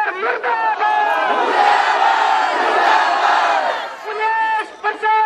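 A protest crowd against the Haryana government chants slogans loudly in unison, close and dense. A single voice leads briefly at the start and end around the massed shouting.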